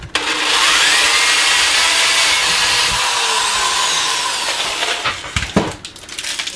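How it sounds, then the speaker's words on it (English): A power drill boring a 5/32-inch hole into a wooden workbench door, with a loud sustained whine for about four seconds that then tapers into a few short bursts and clatters as the bit is eased out. "we're going to take a drill and we're put a 5/32 hole right here"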